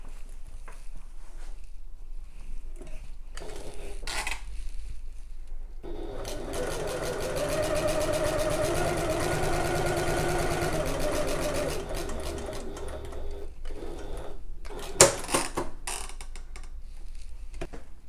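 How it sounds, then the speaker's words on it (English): Sewing machine basting along the top of a messenger bag flap to hold the fabric layers together, a steady rapid mechanical whir in the middle after a few short stitching bursts, fairly close with no talk. "you can baste along the top of the flap just to keep those layers"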